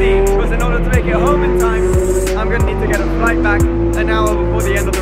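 A loud Corvette race car at the Le Mans 24 Hours roars close by with a steady engine note and a few sharp thumps, while a person talks over it.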